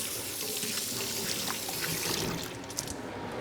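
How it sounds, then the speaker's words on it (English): Hands being rinsed under a running kitchen tap, a steady close splash and trickle of water hitting the hands and sink that continues throughout, with no talking. "let me just give my hands a rinse"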